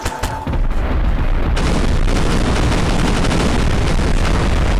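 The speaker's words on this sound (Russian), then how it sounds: "Давно у нас не было эпичных взрывов." Loud explosions from the video game Garry's Mod: a few sharp bursts, then a dense, continuous roar of booming blasts and rumbling that fills the whole stretch without speech.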